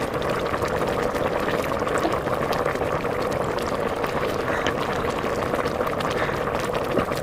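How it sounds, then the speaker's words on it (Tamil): First coconut milk pours into a simmering Jaffna-style brinjal and chickpea curry, giving a steady, fairly loud liquid hiss and bubbling that continues unbroken, with no talk. "இந்த நேரத்தில் நாங்கள் எடுத்து வச்சிருக்கிறோம் முதலாவது பாலை விட்டுருவோம்"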